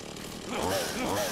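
Chainsaw melee weapon in the video game Beyond Hanwell revving up, a loud mechanical buzz that swells twice with rising-and-falling engine pitch over a brief burst.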